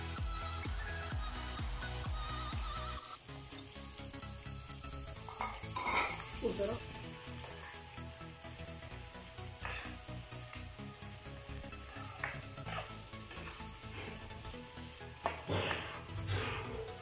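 Onions fry in oil in a frying pan, sizzling and crackling steadily, with occasional scraping and stirring sounds, close up and continuous.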